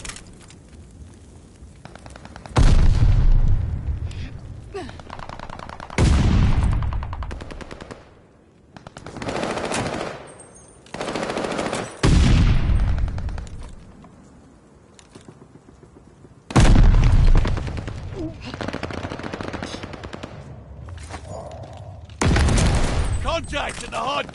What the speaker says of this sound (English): Hardpoint's under fire.